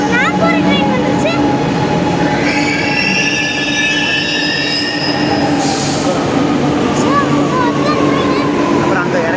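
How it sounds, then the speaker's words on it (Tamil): A metro train leaves the platform in a loud, sustained roar, its wheels squealing in long, sweeping tones that rise and fall, and a voice is briefly heard under the din. "ஸோ அதுதான் ட்ரெயின் போகுது ஃப்ரெண்ட்ஸ்."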